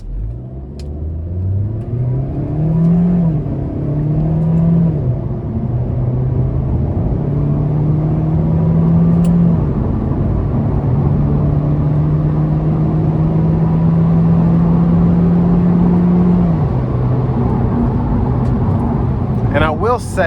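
A 2016 Chevy Sonic RS hatchback with the 1.4-litre turbo engine revs and accelerates through gears in manual mode, loud and steady from inside the cabin, the engine note climbing and dropping at each shift over continuous road rumble.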